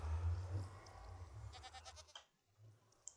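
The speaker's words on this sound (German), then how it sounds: "das ist krass, eine kleine Ziege" A baby goat in the Minecraft video game gives a short bleat over a low rumbling background, followed by a brief quiet stretch and a small sharp click near the end.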